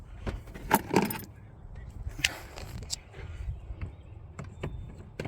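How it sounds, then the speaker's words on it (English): Keys jangle in bursts near a 2012 VW Jetta 2.5L SE while a new throttle body is being installed, several close metallic rattles and clinks spread unevenly over a few seconds without speech. "Keys, Trish."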